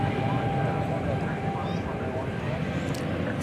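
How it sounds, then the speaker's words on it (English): A Boeing 777 departing Dallas/Fort Worth airport for London Heathrow roars steadily at night, a broad sustained jet rumble that stays loud throughout with no talk over it. "how about a flight to London Heathrow on a 777? There it goes."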